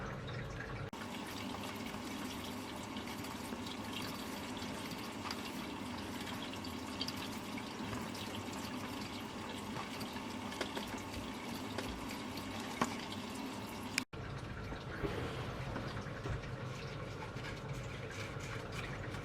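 Running water spatters and trickles steadily while a dirty Foxconn motherboard from a car boot sale is washed, a continuous close wash with a brief break near the end.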